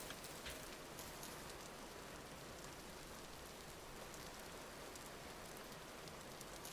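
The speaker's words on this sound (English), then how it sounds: "It sounds like it's raining." Steady rain hisses down without a break in a survival video game, a dense, even patter of drops that stays faint and uniform throughout.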